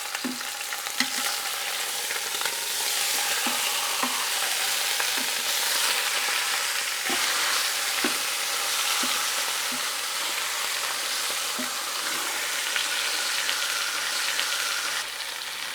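Pork sizzles and sears steadily in a pan, a continuous broad frying hiss at close range with faint occasional ticks and pops throughout, no voices.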